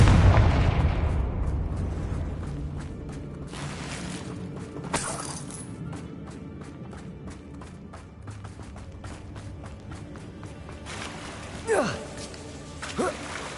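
Confringo fire spell explosions in Hogwarts Legacy: a heavy blast opens, then a few sharper bursts and booms follow at irregular gaps over a steady low rumble of game ambience.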